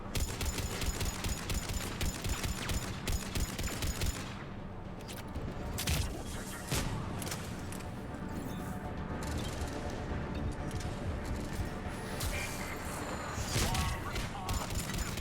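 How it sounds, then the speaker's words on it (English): Cannon fire and rapid gunfire in the video game Mass Effect 3 on PS3 keep up a dense, continuous barrage of loud blasts and crackling shots with little pause throughout. "Okay, so I'm trying to fire the cannon"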